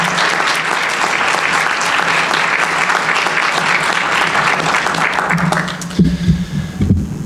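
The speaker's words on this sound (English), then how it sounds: "I'd like everybody here to start by giving Mr. Hutchins a round of applause for his dedication to your community." Dense audience applause fills a high school graduation ceremony and holds steady before tapering off, after which a voice starts speaking.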